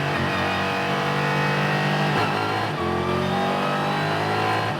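A GT4 race car's engine revs hard at the race start at Spa-Francorchamps, a loud, sustained mid-pitched roar with rising gear pulls and brief dips at shifts, close and continuous with no talk.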